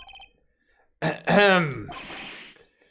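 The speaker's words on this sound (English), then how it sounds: "Maybe I should clear my throat." A single rough throat-clearing grunt in the video game Ace Attorney rises from near silence and trails off into a breathy rasp, close and fairly loud.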